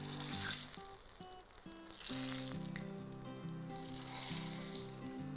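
Vermicelli-coated cutlet frying in a pan after being flipped, a soft steady sizzle and crackle under a tonal melody of background music, fairly quiet throughout.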